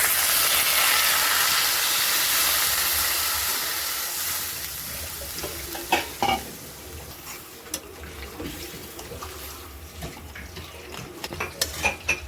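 Water poured into a pan of frying bhetki fish head and spices, starting with a loud steamy hiss that fades over several seconds into softer bubbling with scattered crackles and pops.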